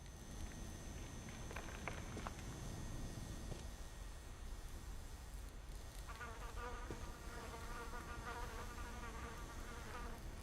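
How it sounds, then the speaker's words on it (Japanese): A housefly buzzes steadily and up close in a quiet, creepy house in the game What Remains of Edith Finch, its drone fluttering and shifting over a low ambient background. "ハエの音がリアルやな。"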